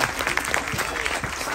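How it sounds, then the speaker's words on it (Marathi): A crowd at a Marathi game show applauds loudly, producing a dense, continuous wash of clapping heard from a short distance with a faint murmur beneath. "एकदा स्वतःसाठी जोरात टाळ्या वाजवा बरं"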